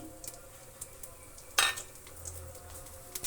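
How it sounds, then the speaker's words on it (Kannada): Soft crackling sizzle of mustard seeds in hot oil, with scattered small pops and one sharper burst midway, close and fairly quiet, with no one speaking. "ಆಯಿಲ್ಗೆ ಸ್ವಲ್ಪ ಸಾಸಿವೆನ ಸೇರಿಸ್ತಾ ಇದ್ದೀನಿ"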